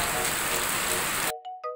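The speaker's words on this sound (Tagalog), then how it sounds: "nung sumunod na araw ho ito na ho, umuulan na naman" Steady rain hisses down during the rainy season at a house under renovation, then cuts off abruptly, leaving a couple of faint tonal blips.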